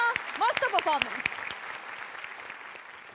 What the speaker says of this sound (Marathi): जोरदार टाळ्या मस्त परफॉर्मन्स